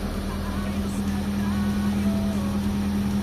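A Mitsubishi Lancer GLi engine idles steadily with the air conditioning switched on, a car suffering multiple sensor faults; a constant low hum runs beneath someone talking nearby.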